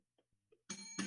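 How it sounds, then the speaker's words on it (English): A bell rung twice after a few faint taps, each strike a bright, loud ring with sustained overtones, close by in a quiet room with soft music nearby. "I'm ringing the bell for you."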